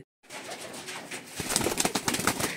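Pigeons at a keeper's house in Mertala Faliya coo and stir nearby, with soft rustling and fluttering bursts growing busier and louder toward the end.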